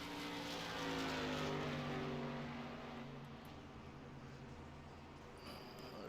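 Race car engine in a racing video game, one car starting a hot lap during qualifying: a steady, loud droning engine tone with harmonic whine, swelling slightly then holding, with no talk over it.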